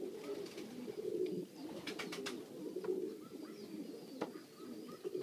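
Pigeons coo softly and continuously in a loft, a low rolling murmur with a few quick fluttery clicks and chirps, faint and without any talk.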